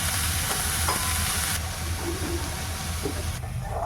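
Vegetables sauté in a pan for a creamy pasta, a loud continuous sizzle with occasional stirring scrapes, close up and steady throughout.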